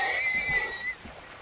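A Minecraft horse's short strained whinny as it is killed, a single high squealing cry lasting about a second before trailing into low grunting, close and clear, with no speech.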